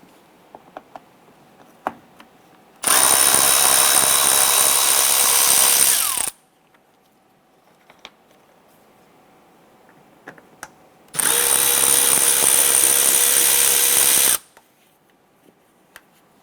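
A power drill driving out T20 Torx screws from the bumper of a 2015-2020 Cadillac Escalade, running in two loud sustained bursts of about three seconds each, separated by quiet with small clicks and handling noises.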